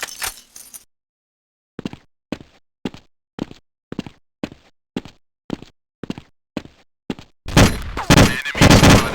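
Gunfire in Counter-Strike during a port battle: about a dozen evenly spaced single shots after a short opening burst, then a dense, loud volley of shots at the end.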